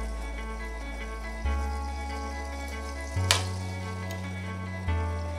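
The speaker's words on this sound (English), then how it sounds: "See, butter done melted and we are on our way." Butter melting in a pot for mac and cheese gives a soft, steady sizzle beneath a low background hum, with a few small clinks along the way.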